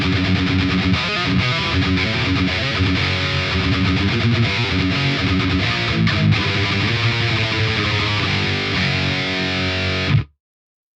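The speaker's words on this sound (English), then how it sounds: "that's got no boost on it, and it's still nice and tight for the chug chug sounds" Distorted electric guitar runs through an amp simulator with no boost, playing tight palm-muted chugs and chords loudly and continuously for about ten seconds before cutting off abruptly.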